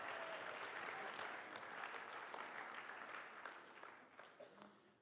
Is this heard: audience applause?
yes